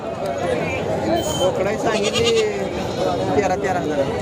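Goats bleat among a busy crowd of overlapping voices at a goat and sheep market in Sangola, the bleats rising out of constant nearby chatter.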